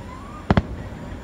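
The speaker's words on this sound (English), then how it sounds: "it's fireworks time" Fourth of July fireworks: two sharp bangs in rapid succession, moderately distant, over faint background noise.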